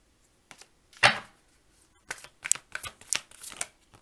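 Tarot cards shuffled and flipped over, giving a sharp riffle burst followed by a run of quick, light card slaps and flicks, close and clear with no talking.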